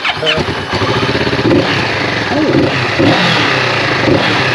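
A Ducati V4 Multistrada motorcycle engine cranks and catches, then settles into a loud, throaty idle with blips of revving up close, and people talking over it.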